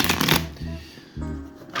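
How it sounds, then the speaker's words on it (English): A deck of tarot cards is shuffled up close, with two dense bursts of riffling and flicking separated by a brief quieter pause. "So I've shuffled these cards 400 times."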